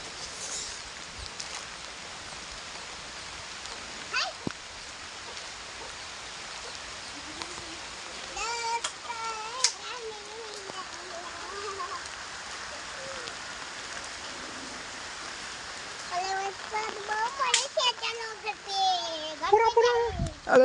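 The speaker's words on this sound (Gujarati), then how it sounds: "વરસાદ બહુ પડે છે." Heavy rain falls on the eighth night of Navratri in a constant hiss of drops on surfaces, while adults and someone talk nearby over the downpour, the voices growing busier toward the end.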